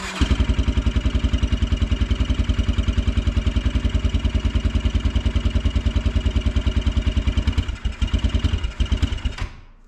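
A cold 2012-2022 Kawasaki Brute Force 300 ATV engine, choke off, runs close by after a valve adjustment, a loud steady fast-chugging putter with even pulses throughout that stumbles briefly near the end.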